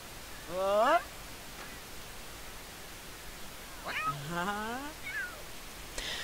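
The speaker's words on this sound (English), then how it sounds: "So it's important for Gerty to befriend all of these cats" Game cats meow in two clear, rising calls, one near the start and a longer cluster midway, heard over a steady low hiss with no talk over them.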